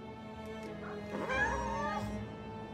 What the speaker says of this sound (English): These are Wedges cats